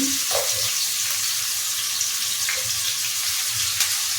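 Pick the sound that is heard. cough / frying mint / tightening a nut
frying mint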